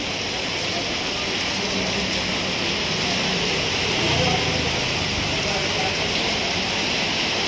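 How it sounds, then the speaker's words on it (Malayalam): Steady rain pours down in Mala, Kerala, in a continuous, dense hiss, with faint indistinct voices underneath. "മഴ ആസ്വദിക്കാനുള്ളതാണ്."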